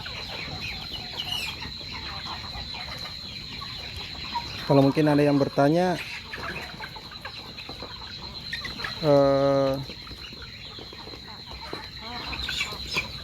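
Free-range village chickens (ayam kampung) cluck on a farm, with two short loud bursts of clucking over steady background noise and a brief voice.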